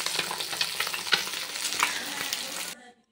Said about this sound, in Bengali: কড়াইতে আলুগুলো অর্ধেক ভাজা হতে না হতেই এবার আমি ওই তেলে দিয়ে দিলাম জিরে ফোড়ন